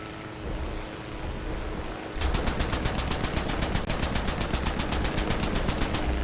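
Twin machine guns on a British ship in War Thunder fire a long, rapid, evenly spaced burst after about two seconds of wind and sea ambience, the shots loud and continuous to the end.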